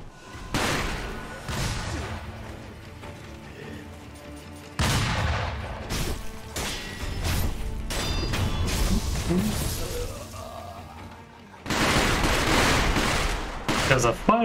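Firecrackers bursting in the Sekiro video game, loud crackling bangs arriving in several dense bursts with short gaps between them.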